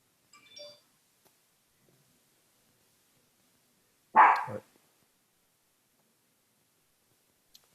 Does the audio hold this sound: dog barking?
yes